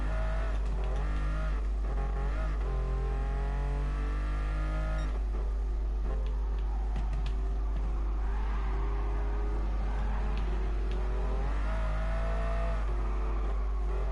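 Ferrari LaFerrari engine in Gran Turismo Sport, a steady, loud, high-revving drone with shifting pitch as it accelerates, running continuously with no voices.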